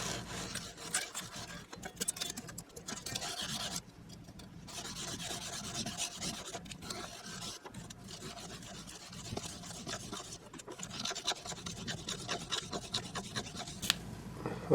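Microfiber pads rubbed along the body of a guitar during a setup, giving a steady, close, dry swishing that runs without pause, with small bumps and a sharper knock at the end.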